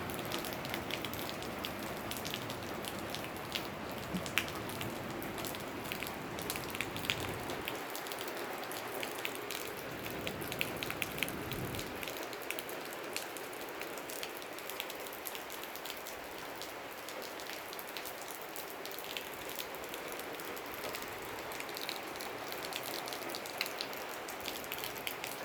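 Steady rain falls through a cold night, a dense continuous hiss of drops striking surfaces nearby, with no voices and an even, unbroken level throughout.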